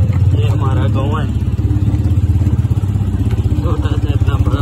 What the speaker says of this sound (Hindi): ये मेरा हैवी बाइक है तो अभी चलते हैं छब्बर